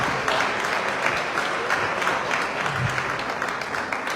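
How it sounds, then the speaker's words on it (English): An audience claps for a panel at the close of a session: steady, dense applause from a medium-sized crowd, sustained without a break. "Please join me and clap for them."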